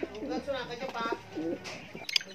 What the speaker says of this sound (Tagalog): yung nanditong nakakulong na kalapati, ayan, is nagpaparisan na naman silang dalawa